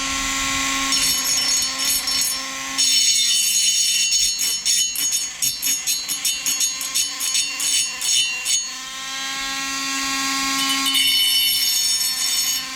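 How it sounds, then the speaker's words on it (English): A Dremel rotary tool smooths the wear ring of a 2020 SeaDoo GTI 130SE, giving a steady high-pitched whine that stutters into rapid pulsing bursts in the middle as it grinds, then settles back into a continuous whine. "I'm going to go ahead and set my Dremel up, and I'm just going to smooth some of this stuff off."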